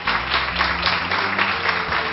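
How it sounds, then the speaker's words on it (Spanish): Audience applause for an engineering team at a company's tenth-anniversary event, a steady, dense wash of clapping from a sizeable crowd lasting about two seconds, with no talk over it. "Y pido un fuerte aplauso para ellos."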